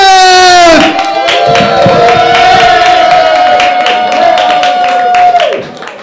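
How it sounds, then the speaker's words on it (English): Audience applause and cheering for the host at a live open-mic stand-up comedy show, loud clapping from the crowd under a sustained whoop that fades near the end. "Can you guys give a loud, thunderous applause to your host, Larry Smith!"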